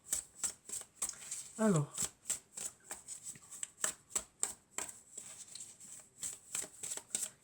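Oracle cards are shuffled in rapid, crisp riffles that repeat steadily throughout, close and fairly loud, while someone speaks French briefly over the shuffling.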